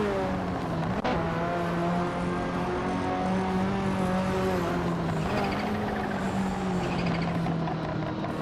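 A 1987 Porsche 959 races in a video game, its engine droning steadily with a rising and shifting pitch, loud and continuous throughout with no talk.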